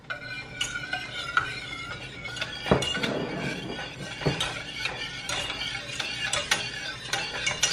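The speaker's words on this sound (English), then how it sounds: "So I have to keep this stirring so that the egg doesn't get cooked up." Egg mixture for tiramisu is stirred steadily in a pan over more than medium heat, a utensil scraping and clicking against the metal in a busy, continuous rhythm with a few sharper knocks.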